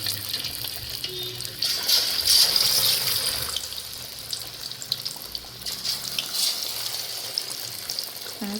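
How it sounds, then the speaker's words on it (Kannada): Spicy marinated fish kebab pieces sizzle steadily in hot oil, a continuous bright hiss that holds for several seconds with no talking. "ಇನ್ನು ಗೈಸ್ ಇವಾಗ ಎಣ್ಣೆ ಕಾದಿದೆ. ಫಿಶ್ ಬಿಡೋಣ ಒಳಗಡೆ."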